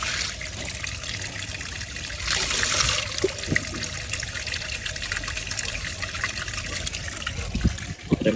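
Water drains from a home aquarium of coloured fish during a water change, a steady rushing trickle with a louder gushing swell partway through and occasional small knocks.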